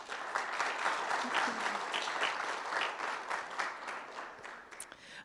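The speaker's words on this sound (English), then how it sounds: "Let's give them a round of applause." An audience at a guide dog class graduation applauds, a steady sustained wash of clapping hands that holds for several seconds before tapering off.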